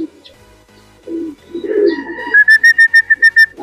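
Racing pigeons coo and call near a club loft at the end of a 160 km training flight, low throaty coos followed by a run of bright, evenly pulsed calls, close and loud with no talk.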